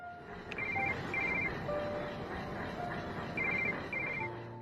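A telephone rings in a film scene, repeated electronic trills in pairs over a steady background hum, fairly close and clear.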